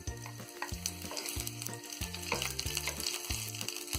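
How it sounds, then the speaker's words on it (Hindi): Green chilies fry with garlic in a pan, a steady sizzle and crackle with stirring, close by and moderately quiet. Melodic background music plays underneath. "तो यहाँ ये लहसुन हल्का सा फ्राई हो गया है। अब इसमें डाल देंगे हम ये हरी मिर्च"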